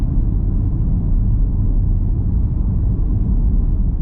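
Steady low rumble of a 2023 Haval H6 GT cruising at about 70 km/h, heard from inside the cabin as a constant road and engine drone with no voices.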